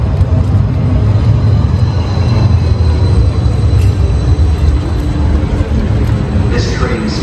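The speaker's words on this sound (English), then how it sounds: "The next 69th street train is arriving." A 69th Street train arriving at a station platform, a loud steady low rumble of wheels and carriages with faint squeals near the end, close by and continuous.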